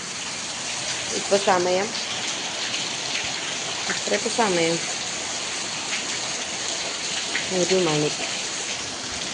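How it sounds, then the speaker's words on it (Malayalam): Heavy rain pours steadily at a house on a rainy day, a dense, continuous hiss filling the background while someone talks over it. "നല്ല മഴ ഇങ്ങനെ പെയ്തുകൊണ്ടിരിക്കുന്നുണ്ട്."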